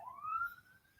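Emergency vehicle siren outside, a single faint rising-and-falling wail heard distantly through a quiet room, fading within about a second.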